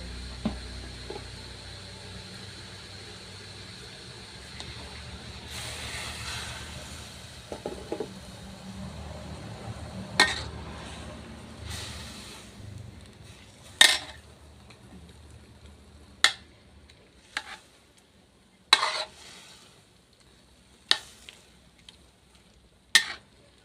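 Papaya is stirred with sugar in a pan while candying. A soft bubbling sizzle runs throughout, and from the middle onward a few distinct scraping knocks of the utensil against the pan come at spaced intervals, close and fairly quiet.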